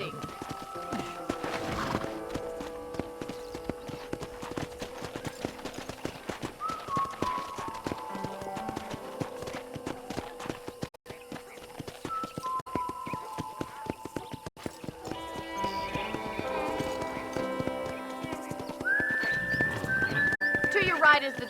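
Steady clip-clop of horse hooves walking at an even pace in the video game Red Dead Redemption, with people talking over it and background music throughout.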